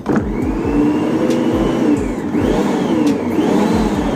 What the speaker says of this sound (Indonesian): Nah ini kita aduk dulu, kita kocok dulu.